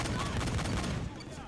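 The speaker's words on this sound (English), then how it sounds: "Because I'm shooting." Rapid gunfire from the heist shooter game Payday 2 bursts continuously, with dense overlapping shots and a voice mixed into the game audio.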